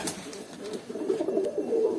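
Saddle fantail pigeons, a mated pair, give soft, close cooing calls in a short series of low rounded coos over quiet background.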